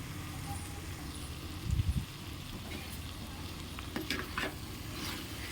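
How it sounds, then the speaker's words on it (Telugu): Cucumber pieces frying in a pan for a curry with chili powder, a soft steady sizzle with occasional louder scraping stirs, fairly faint and without talk. "దోసకాయ ముక్కలు బాగా మగ్గే వరకు అయితే ఫ్రై చేసుకోవాలండి"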